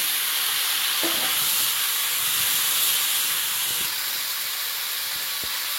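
Potato and green banana pieces go into a hot pan already holding black cumin, ginger paste and tomato, raising a continuous close sizzling hiss with a few soft stirring knocks.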